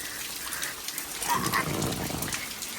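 Rain patters steadily on an umbrella outdoors in Windermere, England, a dense close hiss with no talking.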